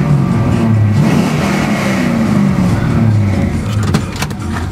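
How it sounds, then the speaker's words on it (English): A 1970 Chevrolet Camaro pro-touring show car's V8 revs loudly and close, a deep rumbling engine note rising and falling continuously with no talk over it. "Great sounding Camaro."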